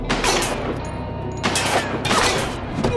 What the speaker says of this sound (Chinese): 三人瞬间抬手对射，楼下的欢喜哥听到枪声